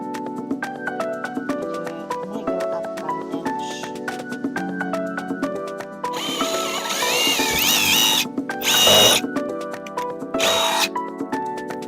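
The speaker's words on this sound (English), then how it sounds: "if you can keep the screwdriver in there, this makes very light work" A power screwdriver drives screws into wood while a wooden espalier is being installed, giving repeated close whirring bursts with short pauses and a louder, harsher grinding stretch near the end.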